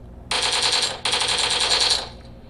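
Automatic gunfire in the mobile game PUBG Mobile: two loud rapid-fire bursts back to back, the first short and the second longer, with a brief gap between them.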